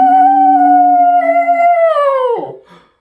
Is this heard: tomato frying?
no